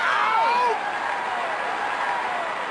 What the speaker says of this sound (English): This crowd is pumped up.